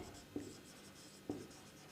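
Two brief, quiet strokes of writing on a board in a physics lecture, close and isolated against a low background hum.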